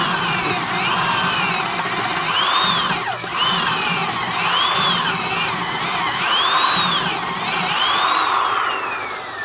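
A Rockwell 3/8-inch commercial duty electric drill runs steadily with a bit fitted, its motor whine close and loud, rising and falling in pitch in repeated waves over several seconds.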